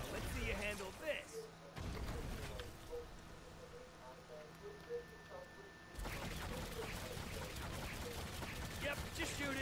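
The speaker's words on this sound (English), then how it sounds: "Use your primary attack. In this case, it's a crossbow bolt that does lightning damage." Lightning-charged crossbow bolts fire and strike with crackling, crashing impacts in an orc-slaying video game, layered under steady game noise while someone talks over the action.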